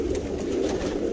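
Pigeons cooing in a pigeon loft, soft overlapping low coos repeating close by, with no voices.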